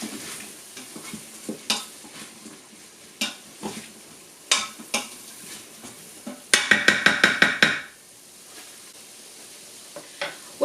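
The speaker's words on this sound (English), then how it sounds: "Stir that up again." Onions sauté and sizzle in a pan for chicken gizzard curry as a utensil stirs them, with scattered scraping clinks against the pan, a quick burst of rapid stirring taps midway, and a soft steady frying hiss beneath.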